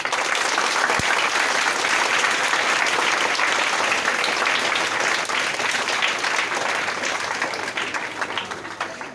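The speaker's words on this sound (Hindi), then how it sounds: "एक बार उनके लिए जो हम लोग ताली बजा देंगे" Students at a Teacher's Day celebration in a coaching classroom give sustained, loud group applause lasting the whole stretch, dense and steady before tapering slightly toward the end.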